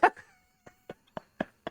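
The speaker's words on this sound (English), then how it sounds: "I'm throwing the ball for my dog." A dog gives short yips and whimpering barks in a quick uneven series during play with a thrown ball, close and clear with no talk over it.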